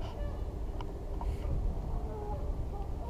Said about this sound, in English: That is the sound of ducks.